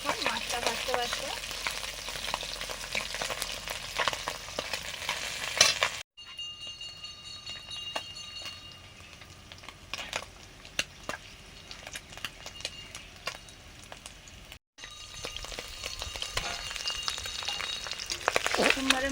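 Small mourala fish fry in hot oil in a pan, making a steady crackling sizzle with occasional spatters and stirring scrapes, close and continuous, briefly quieter midway.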